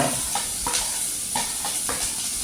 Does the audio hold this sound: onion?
yes